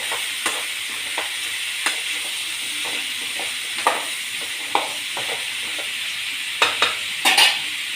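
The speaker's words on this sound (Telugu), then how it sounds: "ఒక 2 మినిట్స్ మనం ఆ మష్రూమ్ని కొంచెం మసాలాలో కొంచెం ఫ్రై అవ్వనిస్తాము." Mushrooms frying in masala for a curry, a steady close sizzle with soft stirring clicks and scrapes of a utensil in the pan, no talk.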